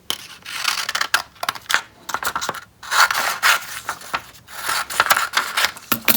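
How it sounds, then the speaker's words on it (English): Scissors roughly snipping a paper Aurora princess doll out of a printed sheet, a steady run of close, crisp cuts and paper rustles with brief pauses between strokes. "we're going to roughly cut out Aurora so that we can fold and put the two parts together"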